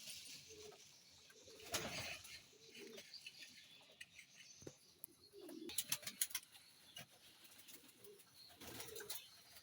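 Pigeons in a loft feed on grain, with soft coos, scattered pecking clicks and brief bursts of wing flapping, faint and close, with no talk.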